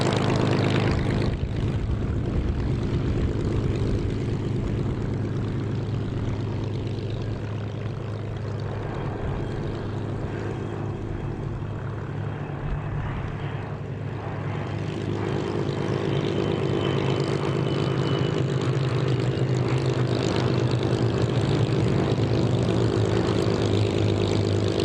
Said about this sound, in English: get ready to wave your flags as the finale flypast of this Duxford Battle of Britain Airshow 2017 runs in